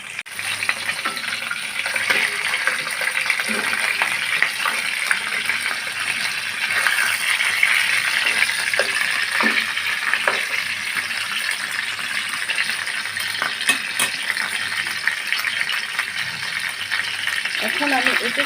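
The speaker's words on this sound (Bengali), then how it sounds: "আমি এপিট ওপিট করে ভেজে নেব" Chicken pieces fry steadily in hot oil for a Bengali-style chicken roast, a continuous close sizzle with occasional light clinks and stirring sounds throughout.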